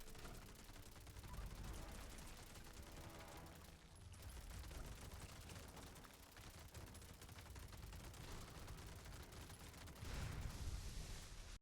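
The Elder's Mark gun in Fallout 76 fires in rapid bursts, a faint, dense rattle of automatic gunfire that keeps going with short gaps and swells slightly near the end.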